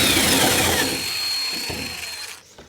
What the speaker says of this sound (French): On va commencer par dépointer le premier point.